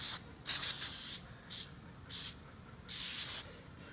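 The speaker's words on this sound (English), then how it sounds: "we just spray a bunch of it on there and then we let it foam for 40 minutes" Four bursts of Easy-Off aerosol grill cleaner spraying onto a grill, hissing in short and longer blasts with brief pauses between, close and fairly loud against a quiet background.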